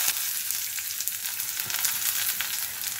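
Chopped onion and whole garam masala spices frying in a little oil in a kadai, a dense, steady sizzle heard close up with faint stirring and no talk.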